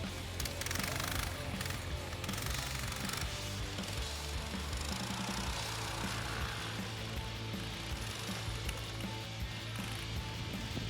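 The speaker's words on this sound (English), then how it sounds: "This sled is Tofora Mini with 7 HP engine." A Tofora Mini sled's 7 HP engine keeps up a rattly, mechanical clatter with a steady low hum, fairly loud and continuous, with no clear talking.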